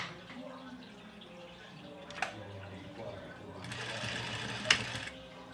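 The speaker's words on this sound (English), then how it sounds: "Now we are going to fold the bottom up and top stitch." A sewing machine top stitching a folded-up dress hem with elastic pulled straight, a low continuous mechanical hum with a couple of brief sharper clicks, fairly close with faint background noise.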